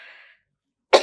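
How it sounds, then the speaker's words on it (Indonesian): A single short, sharp cough from an older adult indoors, close and abrupt after a brief fading sound and a moment of silence. "ini kalau orang tua batuk nih karena kebanyakan ngomong"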